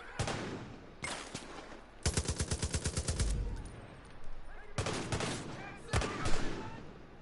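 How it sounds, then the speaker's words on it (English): Bursts of gunfire aimed at the player in Far Cry 5, including a long rapid automatic volley and several shorter scattered bursts and single shots, with a voice talking between them. "I'm being shot at the same time"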